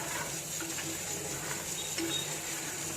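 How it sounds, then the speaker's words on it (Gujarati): Milk poured little by little into a cooking mohanthal mixture of gram flour, giving a soft, steady hiss and sizzle with faint stirring and scraping, quiet and close, with no voices. "અહીંયા આપણે થોડું થોડું કરીને દૂધ નાખવાનું છે"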